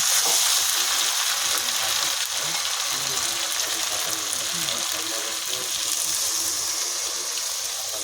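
Water poured into a hot frying pan of ghugni cooked with goat fat, a loud, steady hissing sizzle that fills the whole stretch with little change.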